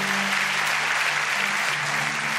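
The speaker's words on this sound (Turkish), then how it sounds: "Evet sahnedekiler alkışlarla yerine gitsin." Studio audience applauding on a Turkish talk show stage, a dense, steady wash of many hands clapping, loud and close, with a faint voice briefly underneath.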